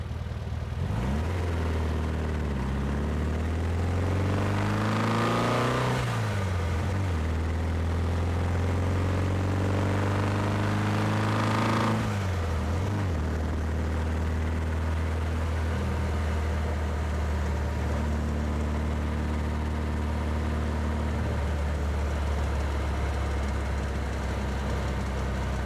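A 1984 Volkswagen dune buggy engine drones steadily with revs rising and dropping through gear downshifts, the pitch sweeping up twice before settling into an even cruise, all continuous and moderately close.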